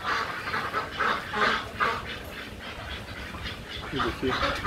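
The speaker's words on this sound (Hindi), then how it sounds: "ये देखिए डक्स भी हैं यहाँ" Ducks quack repeatedly in a noisy group, loud and close, their calls overlapping in an uneven rhythm.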